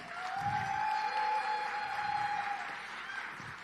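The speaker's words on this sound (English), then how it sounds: "Let's please give them a round of applause" Steady applause from a keynote audience fills the space, a continuous wash of clapping holding for several seconds with a faint tonal hum running underneath.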